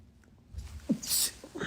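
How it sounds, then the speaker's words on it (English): A single short sneeze bursts out, close and fairly loud, followed by faint rustling. "I usually sneeze twice."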